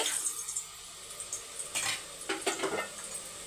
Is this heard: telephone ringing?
no